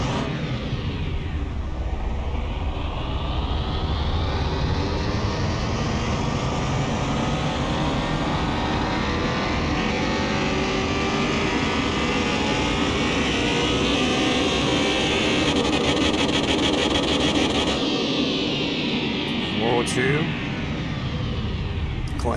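In Car Mechanic Simulator 21, a car engine revs on a dyno with a loud, sustained roar that climbs in pitch across the run, then cuts off sharply near the end.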